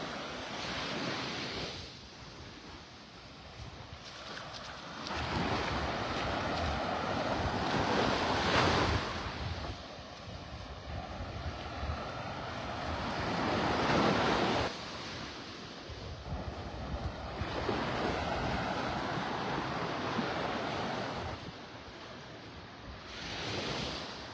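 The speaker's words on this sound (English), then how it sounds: "The wind's coming out of the east." Steady wind blowing across a Florida beach at Pelican Bay in North Naples, with easterly gusts rising and falling in broad swells over the constant wash of surf, and no voices.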